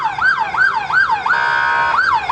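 Ambulance siren at a road accident scene, loud and close, rapid rising-and-falling wail cycles about twice a second, switching briefly to a steady harsh yelp tone before the wail resumes.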